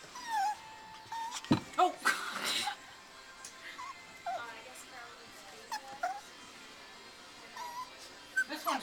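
A small puppy in a pet shop whimpers and whines in thin high cries, with a few sharp yips scattered through, while people talk quietly nearby.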